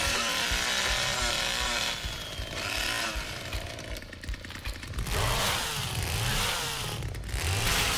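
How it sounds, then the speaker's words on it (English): A chainsaw revs in the Texas Chainsaw Massacre video game, its engine snarling loud and close in repeated surges that dip and climb again over several seconds. "What does revving the chainsaw do?"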